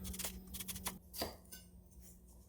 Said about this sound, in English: Next, I'll go ahead and peel and chop up that red onion